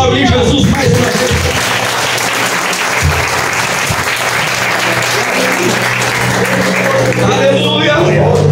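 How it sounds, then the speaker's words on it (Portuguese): A church congregation applauds during a sermon, loud and sustained clapping from a large crowd with voices mixed in throughout. "Você pode aplaudir Jesus mais uma vez."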